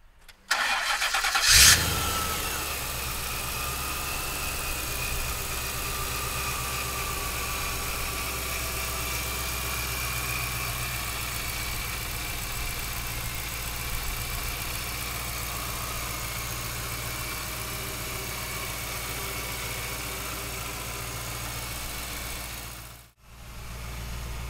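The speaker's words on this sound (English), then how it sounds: "So come on up and let's fire this beast up." A 1973 Ford F100 pickup with a Procharged Boss motor cranks and fires up, then settles into a steady, even idle close by for over twenty seconds, with a brief dip near the end.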